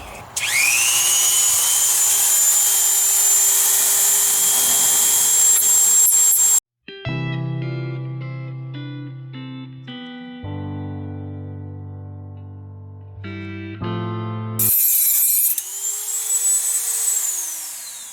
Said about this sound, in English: But I'm about to plug in the Dremel,